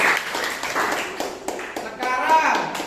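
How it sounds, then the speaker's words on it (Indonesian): A class applauding in a school lesson, a burst of many hands clapping unevenly at close range, mixed with voices talking throughout. "ya, tepuk tangan bosku."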